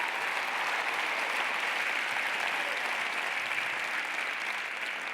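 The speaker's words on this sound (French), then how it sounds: "un immense tonnerre d'applaudissements pour nos amis d'outre-mer" Large congress crowd in Lille gives a long, even round of applause, a dense roar of clapping that stays loud and steady for five seconds without speech.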